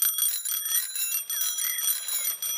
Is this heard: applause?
no